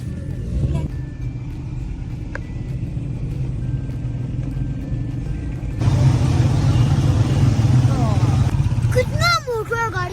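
Heavy motor traffic from a large road rally of thousands of vehicles, a steady low engine rumble that swells louder partway through, with voices talking over it and a brief high chirping sound near the end.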